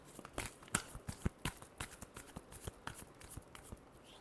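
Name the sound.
shuffling tarot cards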